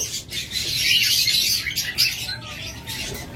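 A DNA-sexed pair of pet birds at a bird sale chirps in rapid, shrill bursts that swell and fade, close by, with faint low background noise and no speech.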